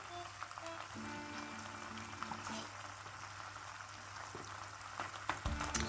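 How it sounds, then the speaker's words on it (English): Mascarpone dropped into a pan of pasta with cherry tomatoes brings a soft, steady sizzle and bubbling, with a few scrapes and a louder clatter of the pan near the end. "Now I'm gonna add mascarpone."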